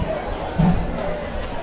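Crowd chatter in a busy queue at Ekvira temple near Lonavala, a steady murmur of many voices close around.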